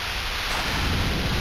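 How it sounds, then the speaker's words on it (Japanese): A thunderstorm at sea in the Romancing SaGa video game roars as a dense, steady wash of rain and rumbling thunder, loud and unbroken, with no voices. "で嵐に巻き込まれました。"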